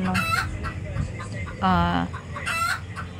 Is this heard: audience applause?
no